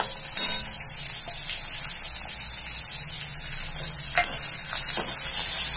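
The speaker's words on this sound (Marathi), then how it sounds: "आता कांदे चांगले लाल होईपर्यंत आपण भाजून घेऊ." Finely chopped onion, garlic and coconut slices frying in a pan for Jalgaon-style baingan bharta, giving a loud, continuous hissing sizzle with occasional scrapes of stirring, nobody speaking.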